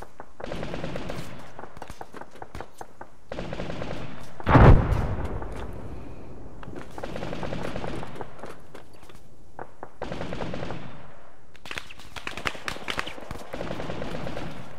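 Machine-gun and rifle fire rattle in repeated bursts around a machine-gun position in ArmA 3, with one loud close impact, while voices talk intermittently over the combat.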